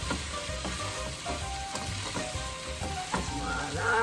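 Cauliflower rice and Italian sausage with melting cheese being stirred in a hot pan, a constant close sizzle broken by scraping strokes of the utensil every half second or so, no speech.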